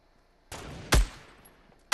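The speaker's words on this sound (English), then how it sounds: "I sniped him with the scar!" A SCAR rifle fired as a sniper shot in Fortnite: a sharp, loud crack about a second in, a softer hit just before, and another shot starting at the very end, with no talk.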